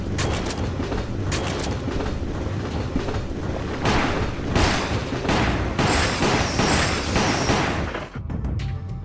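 A moving train in the video game Resident Evil: The Umbrella Chronicles rumbles loudly and continuously, with rhythmic clanking and sharp bursts layered over the steady rolling noise.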